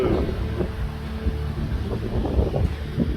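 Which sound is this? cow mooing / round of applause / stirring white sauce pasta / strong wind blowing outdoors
strong wind blowing outdoors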